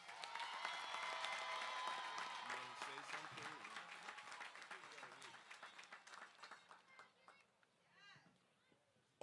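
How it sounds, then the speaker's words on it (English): Applause rings out across a university commencement ceremony for a top scholar, dense clapping through the first half, then thinning out and fading toward the end. "Let's give Ms. Archer a round of applause."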